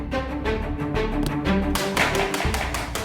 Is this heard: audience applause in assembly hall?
no